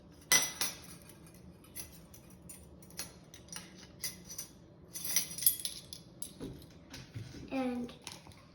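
Metal measuring spoons tapped and clinking against a baking soda jar while making pancakes, a series of light, close clicks and taps in a quiet kitchen, with a voice briefly audible.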